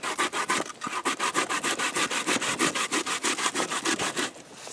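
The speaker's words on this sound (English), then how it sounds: "you just come on here and you just grate the cassava." Cassava being grated by hand on a grater, a fast, even series of rasping strokes, close and loud, repeating steadily with no talking.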